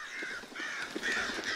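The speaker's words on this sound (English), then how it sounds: "Bird!" A crow in the Darkwood game caws repeatedly, harsh rasping calls in quick succession with no talking.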